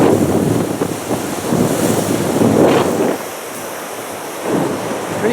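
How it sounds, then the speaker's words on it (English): Ocean surf rolls and breaks on a beach in continuous loud washes, swelling and easing, with wind buffeting the microphone and no voices. "Bit of waves today."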